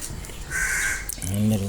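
A single harsh crow caw rings out over outdoor background noise at a resort in Pampanga, followed by a brief spoken voice.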